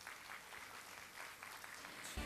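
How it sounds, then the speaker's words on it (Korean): An audience applauds at a regional medical forum in Busan, a steady, fairly faint wash of clapping that holds throughout with no voices over it. "다시 한번 큰 박수 부탁드리겠습니다."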